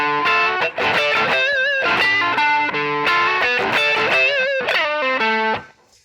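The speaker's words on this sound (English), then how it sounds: "it's a rhythm guitar kind of strum piece" An electric guitar with distortion plays a funky, bluesy lick of rhythmic strummed chords and bent notes, ringing out loud before a quick fade.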